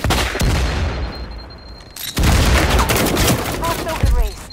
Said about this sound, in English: Grenades and flashes.